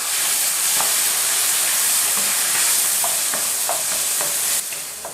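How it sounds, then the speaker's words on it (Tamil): Sliced shallots and tomato sautéing in hot oil for sambar, a loud continuous sizzle and hiss with a few light spoon scrapes, close up and without voices. "வெங்காயம் தக்காளி ரெண்டையும் நல்லா வதக்கிடலாம்"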